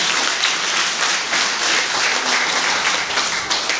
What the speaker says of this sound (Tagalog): Palakpak na muli para sa Panginoon.